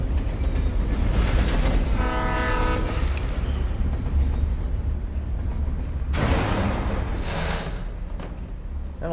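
A train rumbles past in Alan Wake Remastered, a loud continuous roar of wheels with a drawn-out horn blast early on and another horn call later.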